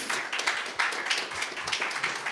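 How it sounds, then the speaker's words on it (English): Audience applause at a conference on homelessness, a short burst of many hands clapping at moderate volume, slightly distant, with faint voices mixed in. "I hope you can hear the applause"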